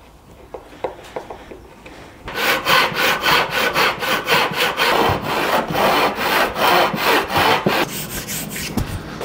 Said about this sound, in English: now I can drill countersinks into the legs so that my screws